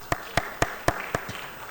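Applause at the opening ceremony of an executive dialogue comes as five or six sharp, evenly spaced claps, close and crisp, fading out after a brief moment.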